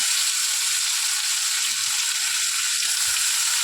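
Raw mango pieces fry in hot oil with five-spice seasoning, giving a steady, close, even sizzle with light stirring beneath it.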